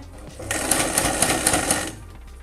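A sewing machine stitches a fabric face mask in a single loud, close, steady mechanical whir of about one and a half seconds, starting and stopping abruptly, with no talking.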